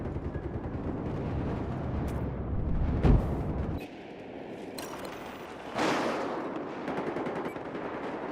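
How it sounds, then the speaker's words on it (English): A grenade blast and gunfire in Battlefield 4 online multiplayer, a dense rumble of shots with a sharp explosive crack near the middle, followed by distant combat noise and fading debris. "Man, I just threw a grenade over there."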